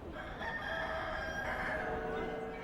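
A mechanical rooster figure on a clockenspiel lets out a loud, drawn-out cock-a-doodle-doo crow, heard up close and filling the whole moment with no talking.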